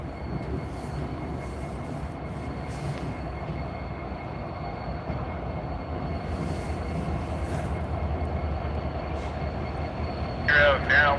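A Norfolk Southern locomotive rumbles slowly through a rail yard to couple up, a steady low drone with faint squeals and a louder clank near the end.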